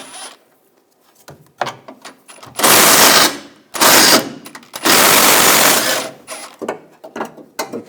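Socket ratchet or wrench backing out 15mm bolts from a 2014-2018 GMC Sierra front bumper, close-up bursts of harsh whirring and clicking separated by short pauses and small metallic taps.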